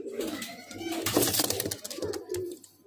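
A male pigeon, a Madrasi highflyer kept by a seller, coos in low, throaty bursts, repeating several times close by with some rustling in between.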